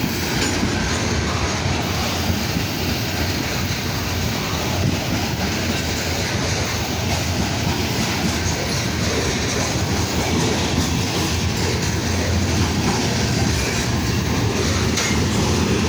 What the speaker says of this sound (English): I got a feeling there's another train pulling up beside, going this other way.